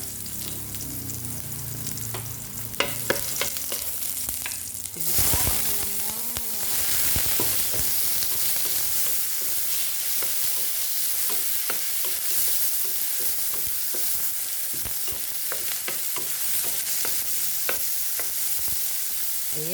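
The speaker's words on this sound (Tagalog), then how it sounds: "Magisa ko og lamas" Spices sauté in a hot pan for a shrimp-in-coconut-milk dish, a loud continuous sizzle with frequent scraping and stirring clicks from a utensil, close by and without speech.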